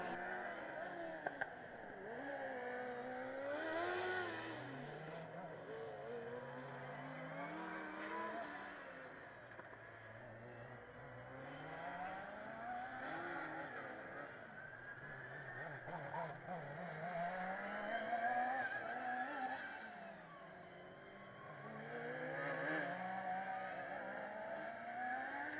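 Supercharged Formula Student race car at Formula Student Germany 2015 endurance event, engine droning and rising and falling in pitch through repeated throttle changes and gear shifts, steady and fairly loud with crowd ambience behind.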